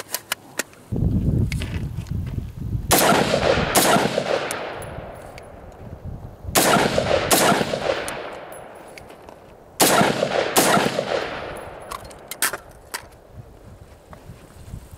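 Ensio Firearms KAR-21 multicalibre rifle fired outdoors during magazine changes, three bursts of rapid shots, each loud crack followed by a long fading echo, with quiet handling between bursts.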